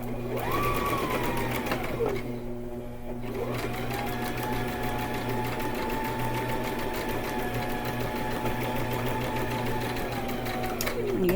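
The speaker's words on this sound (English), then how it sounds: "we're going to sew all the way down that 1 inch" A sewing machine stitches a 1-inch seam, whirring steadily close up with a rapid needle rhythm, briefly pausing and then resuming its run, while someone talks over it.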